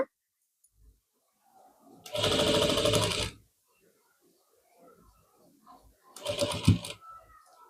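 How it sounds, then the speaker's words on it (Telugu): A sewing machine stitches a blouse border at the corner in two short bursts of rapid, close mechanical whirring, separated by near-silence with faint handling sounds. "తర్వాత ఈ మూల మీద ఇలా మనం ఒక కుట్టు వేసుకోవాలి"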